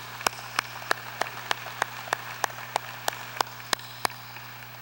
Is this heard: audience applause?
yes